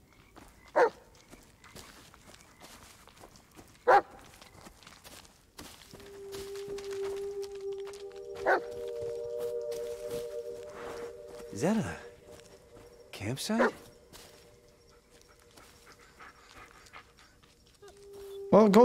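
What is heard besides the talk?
dog barking and panting in video game Blair Witch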